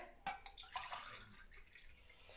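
Water poured into a bowl of flour mixed with yeast, salt and sugar for pan-fried dough, giving a few faint splashes and drips near the start that thin out into a quiet trickle.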